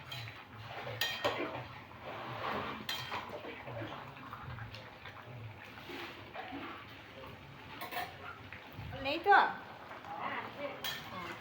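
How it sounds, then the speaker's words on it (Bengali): Chicken with potatoes and spices is stirred in a pan on a low gas flame, with quiet scraping and clinking of a utensil against metal at irregular intervals and a sharper clatter near the end, under soft speech. "আবারও একটু কষিয়ে নেব।"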